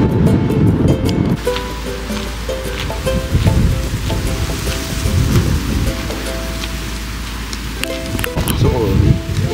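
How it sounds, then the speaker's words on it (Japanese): Steady rain falls near the sea on Miyako Island, Okinawa, a constant broadband hiss with wash that could be surf, running throughout at fairly loud level over a low droning hum. "雨や。"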